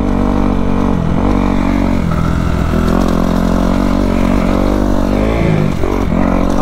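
Kawasaki KX250F dirt bike engine droning steadily and loud through a ditch jump, with the throttle dipping and rising briefly near the takeoff and landing, no talk.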